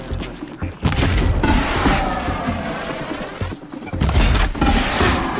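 A machine enemy blows up in Horizon Zero Dawn with loud, dense booms and crashing debris. The blasts roll on for several seconds, and a fresh burst hits near the end.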